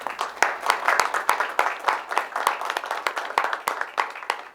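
An audience at a school board of education meeting gives a round of applause, a moderate crowd clapping with distinct sharp individual claps, fairly close and steady for several seconds.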